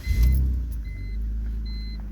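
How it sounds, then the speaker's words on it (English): A BMW E46's engine turns over and catches with a short burst, then settles into a steady low idle rumble, heard close with no talking. "you want to turn on the car"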